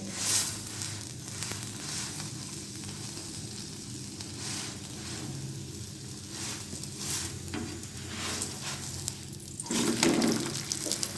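Mooli paratha frying in ghee in a pan, giving a steady close sizzle with occasional scraping and stirring noises throughout.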